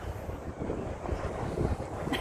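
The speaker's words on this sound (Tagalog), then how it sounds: "Mahangin pa naman." Wind buffets the microphone on a Hong Kong rooftop at the IFC mall, producing a steady, close, low rumbling roar that continues throughout with no speech.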